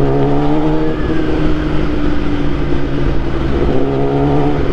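A Kawasaki ZX-10R superbike engine revs loud and close while riding, a steady throaty roar with rising and falling pitch and wind noise, no talking.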